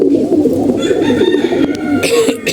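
Pigeons coo continuously up close, a low rolling burble with several birds overlapping.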